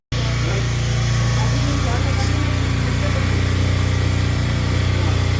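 Motorcycle, damaged in an accident, running with a loud, steady engine drone as it is taken away to the showroom for repair, with voices under the noise.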